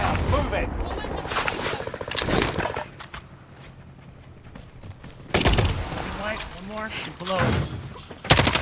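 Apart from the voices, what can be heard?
gunfire from a video game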